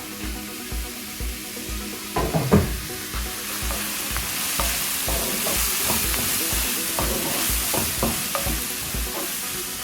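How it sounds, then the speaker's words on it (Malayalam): Chopped garlic frying in a pan for a drumstick curry, a close continuous sizzle with regular knocks and scrapes of a spoon stirring it. "ഇനി മുറിച്ച് വെച്ചിരിക്കുന്ന വെളുത്തുള്ളി നമുക്ക് ഇതിലേക്ക് ചേർക്കാം."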